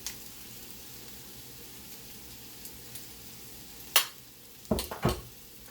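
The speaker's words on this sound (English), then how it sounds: "I'm going to whisk this around and make a roux." Flour cooks in melted butter for a roux, making a soft, faint sizzle under low background noise, broken near the end by a few sharp clinks of a whisk against the pan.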